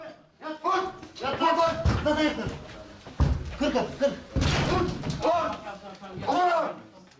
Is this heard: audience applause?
no